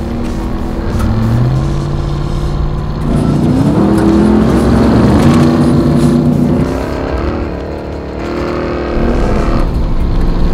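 The engine of a 2021 RAM 1500 TRX pickup revs hard under throttle while driving off road, a loud, deep, sustained roar that climbs through the gears in rising sweeps, with a brief dip before pulling strongly again.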